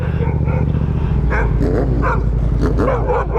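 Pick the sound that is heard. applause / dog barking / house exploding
dog barking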